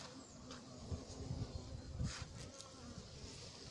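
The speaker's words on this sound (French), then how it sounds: "Des frelons qui tournent autour de moi, un frelon qui s'approche de la tente." Hornets buzz around a beehive at an apiary, a faint, low, continuous droning hum that swells slightly as one passes close.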